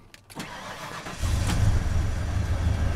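A truck engine cranks briefly, then catches and settles into a loud, steady low rumble close by, with no talk over it.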